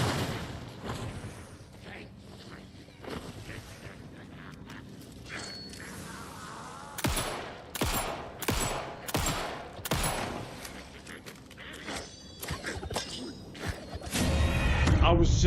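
Rapid bursts of gunfire from the video game Alan Wake 2, loud and clustered in a string of sharp shots midway, with a player's voice talking at other points.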